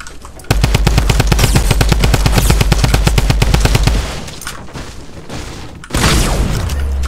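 Rapid automatic gunfire in the Fortnite video game rattles in a loud continuous burst for about three and a half seconds, followed by scattered single shots and a final loud blast.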